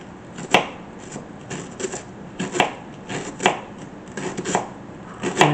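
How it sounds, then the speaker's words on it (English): A knife slices a yellow onion into thin slices on a cutting board, with crisp, sharp chops in uneven bursts, close and clear, and no speech. "Then the next thing we'll do is chop our yellow onion here"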